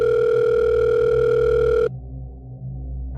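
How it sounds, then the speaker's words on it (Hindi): Mobile phone ringing from inside a pocket, a steady electronic ring tone with strong sustained tones for almost two seconds, then cutting off abruptly to a low muffled background. "पॉकेट में रखा उसका फ़ोन बज उठा।"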